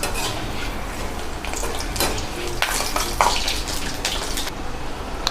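Okra fries in a pan with a crackling sizzle, broken by clinks and scrapes of a utensil turning the pieces against the metal; no one speaks.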